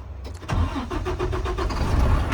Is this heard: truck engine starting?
yes